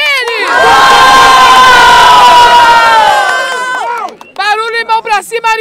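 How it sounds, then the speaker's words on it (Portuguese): A large crowd at a Brazilian street rap battle semifinal roars and cheers loudly and continuously, then breaks into rhythmic shouts and chants. "Barulho pras rimas de Arielzinha! Barulho pras rimas de Jenny!"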